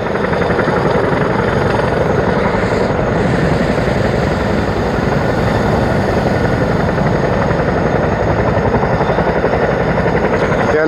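A British Army helicopter runs up for takeoff close by, a loud continuous rotor thrum and turbine whine that stays steady and dominant throughout with no break.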